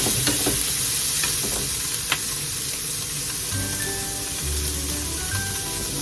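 Macaroni soup with vegetables being stirred in a pot, a close, continuous bubbling hiss with scraping and clinks of a spoon, no talk.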